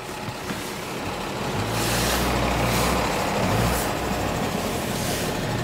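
A BMW E30 rumbles as it is driven onto the back of a truck, a low engine drone swelling and holding steady with hissing, clattering noise over it, close and loud with no talk.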